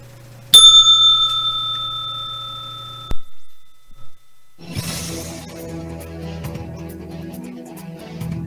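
A bright bell rings once with a sharp metallic strike and a ringing tone that sustains for a few seconds before cutting off, followed by quieter background clatter.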